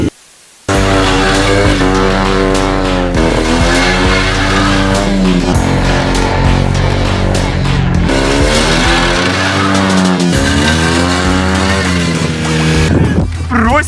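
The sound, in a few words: lowered car driving with low muffler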